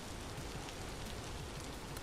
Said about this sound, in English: Do like the rain sounds in this game.